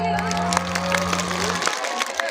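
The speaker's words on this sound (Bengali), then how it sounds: "নিজেদের জন্য একটা হাততালি পাবে" Audience applause at a stage show after girls perform a song, steady dense clapping heard over sustained music and voices that fade out near the end.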